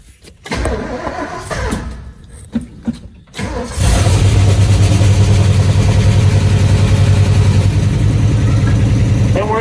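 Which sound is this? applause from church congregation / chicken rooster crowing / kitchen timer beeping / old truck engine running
old truck engine running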